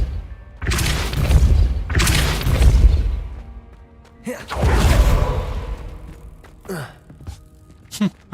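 A Depulso force spell cast in Hogwarts Legacy, several loud booming blasts with crashing, shattering debris, each burst swelling and fading before the next, followed by lighter thuds and whooshes.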